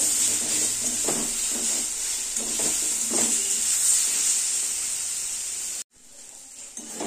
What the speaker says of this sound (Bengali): এর মধ্যে কটা কড়াইশুঁটি দিয়ে দেবো, এই কড়াইশুঁটি কটার মধ্যে দিয়ে দেবো। দিয়ে আবার একটু ভাজা করবো।